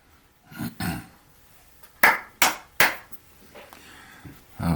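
Several sharp, close hand claps for audio sync, spaced irregularly over a few seconds in a quiet room, with softer knocks and handling sounds between them.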